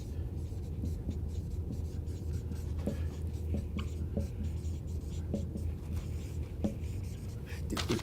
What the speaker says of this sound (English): and I'll write this out